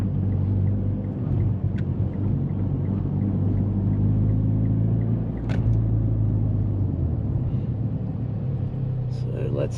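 A Mitsubishi Evo X MR idles and rumbles at standstill before launching, a deep steady engine drone heard close with a brief lift near the middle, and a voice speaks over it.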